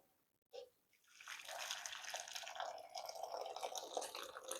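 Water from parboiled potatoes pours steadily and splashes into a bowl, a continuous gushing rush after a brief knock at the start.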